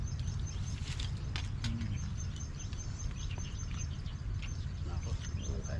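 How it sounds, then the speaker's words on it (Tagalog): Many birds chirp and tweet in scattered short calls beside a river in the rain, fairly faint over a steady low rumble of water and rainfall. "Dami mga ibon."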